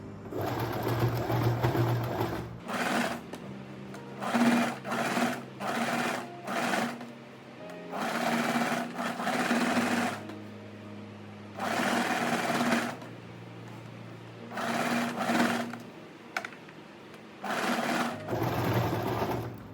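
A sewing machine stitches the front neckline of a tie-back dress with an empire waist, running in repeated bursts of rapid whirring with short pauses between, close and clear, with no talk.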